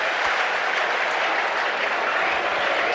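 Home crowd at a Preston North End versus Ipswich Town football match applauding, a dense, steady roar of clapping heard alone at close range with no talk.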